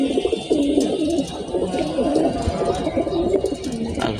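Several male homing pigeons kept for flying coo together in a loft, a steady overlapping burble of low throaty calls running throughout, close and fairly loud with no talk.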